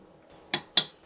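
Two crisp metallic clinks of a utensil striking a pot about a quarter second apart, made while lifting kelp out after boiling potatoes, alone over a faint low hum.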